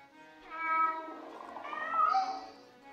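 Cats meow in the cooking video game Battle Chef Brigade: two clear, mid-volume meows in quick succession, the second rising higher, with no talking over them.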